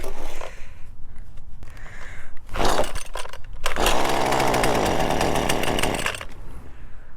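A Husqvarna string trimmer with a repaired pull-start: a couple of pull-cord zips, then the small two-stroke engine catches and buzzes loudly and close for a few seconds before dropping back.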